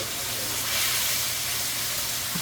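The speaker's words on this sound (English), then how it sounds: "You hear that sizzle? That means it's going to be good." A steady, loud hiss of sizzling fills the whole moment, a constant frying crackle of baked oatmeal pieces browning in a pan close by, with no talking over it.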